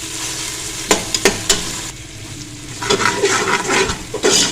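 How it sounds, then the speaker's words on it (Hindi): Masala spices are stirred and roasted in a pan for Punjabi kadhi, giving a close sizzle and frying hiss broken by sharp scrapes and clacks of the spoon against the pan. No one speaks. "और अब हम इस मसाले को भूनेंगे।"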